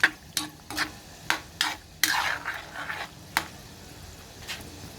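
Pork menudo with Chinese celery stirred in a pan: a series of sharp spoon scrapes and knocks against the pan over a soft simmering sizzle, close by, with no voices.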